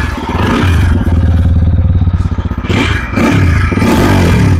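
Idling exhaust of a TVS Apache RTR 160 4V motorcycle, a steady close, loud throbbing rumble with a brief dip and recovery partway through, no talk.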